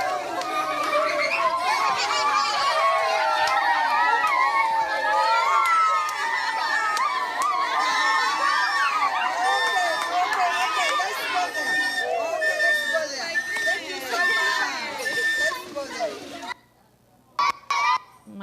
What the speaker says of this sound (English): you heard their little voices screaming, and they ran up to the van